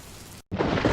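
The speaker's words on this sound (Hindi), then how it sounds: "चिरपी तेज बारिश में उड़ जाती है" Heavy storm rain in a cartoon pours as a dense, steady hiss. It cuts out for a split second, then comes back louder and fuller.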